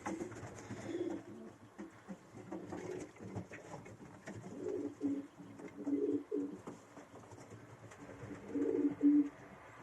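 Young pigeons coo in repeated soft, throaty bursts, close and clear, rising and falling in loudness over a quiet background.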